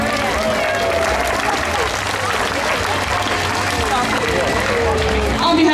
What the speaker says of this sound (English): How about a big round of applause for all the cats today?